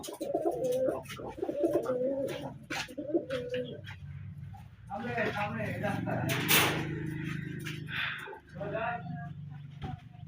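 Several Giribaz pigeons coo repeatedly in soft, throaty rolling phrases, close by, with flutters and cage knocks mixed in, while someone talks over them throughout.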